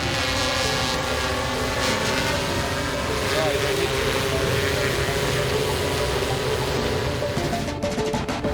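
Military swarm drones flying at a test airfield produce a steady, layered buzzing whir with tonal motor harmonics, continuous and fairly loud throughout, as a voice narrates over it.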